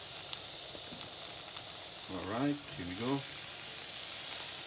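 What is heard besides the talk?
chicken wings sizzling on indoor grill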